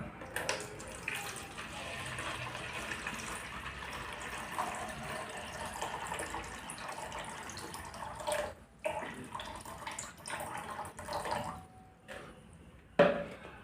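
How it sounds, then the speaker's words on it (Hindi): Water poured into a container while mixing a batch of homemade detergent liquid, a continuous splashing, trickling flow with a few louder clunks and splashes toward the end, close and fairly clear. "तो इसमें हम पानी लेंगे 750 ग्राम।"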